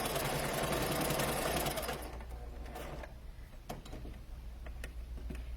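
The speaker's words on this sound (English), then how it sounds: "Then I'm going to sew down about halfway. I'm going to back stitch a couple times." A sewing machine stitches a fabric face mask in a loud, steady whirring run that stops after about two seconds, followed by quieter handling clicks and ticks close by.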